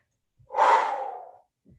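A single heavy breath, a sharp gasp-like inhale swelling into a long forceful exhale, comes up close during a squat and lunge workout, with faint softer breaths at the edges.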